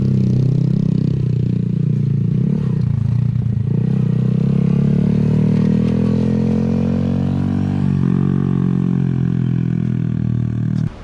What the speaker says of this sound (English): we just took these two here for a little ride to try to teach them how to drive the Grom